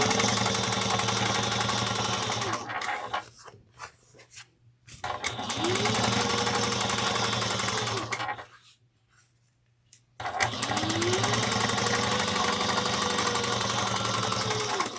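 A sewing machine top-stitches a bag made from the Ava pattern by Sallie Tomato, running loud and close in three long steady runs separated by brief pauses.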